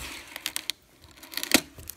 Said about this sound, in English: So I'm going to try to pull this out with one hand here.